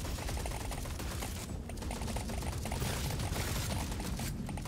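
The Bug Taser zappy gun in Deep Rock Galactic Survivor firing nonstop, a dense crackling rattle of rapid shots and game effects that stays steady and loud throughout.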